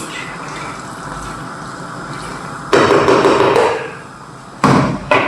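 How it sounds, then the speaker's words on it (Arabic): Water is poured into a chicken béchamel dish in two short, close splashing bursts against a steady kitchen background hum. "فهحط برضو حبه ميه تانيه كده، مش كتير"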